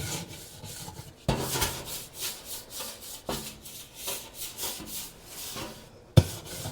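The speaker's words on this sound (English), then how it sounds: "I'm just gonna go up here in the sides and just get it onto the sides with the scrub brush" Stiff scrub brush worked with cleaner across the inside of an oven, bottom and sides, giving a steady back-and-forth rubbing and rasping rhythm with a few sharper knocks, close and alone.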